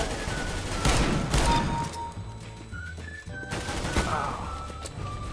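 Magnum sniper rifle gunfire in the video game CS:GO, loud heavy shots with crashing echoes, a dense burst early then scattered booming reports across a noisy game soundscape, no clear talking.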